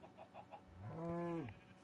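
Minecraft chickens clucking in a few soft, evenly spaced calls, followed by a louder drawn-out fowl-like cry, with no talking.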